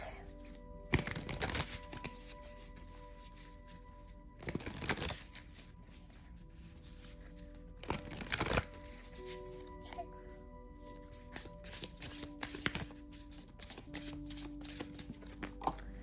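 Tarot cards are shuffled close up in three loud riffling bursts separated by quieter handling and card rustling, with faint background tones throughout.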